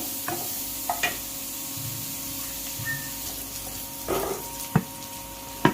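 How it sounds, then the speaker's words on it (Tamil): Green chili, curry leaves and coriander leaves stirred in a hot pan for a Tamil egg curry, giving a low steady sizzle broken by a few sharp scrapes and clicks of the spoon against the pan, with no talking. "கொஞ்சம் வதக்கிக்கலாம் நல்லா. இப்போ நல்லா வதங்கட்டும்."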